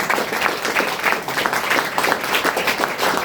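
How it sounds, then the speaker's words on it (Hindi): An audience at an award ceremony in an ITI college hall claps hard and steadily, a dense close wash of applause lasting the full few seconds, with a faint voice underneath. "आप जबरदस्त और जोरदार ताली बजाइए।"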